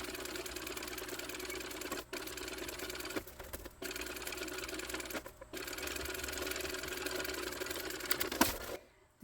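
A sewing machine topstitches a Rachel tote bag, whirring close and steadily in long runs broken by several brief pauses, ending with a short clatter and stop.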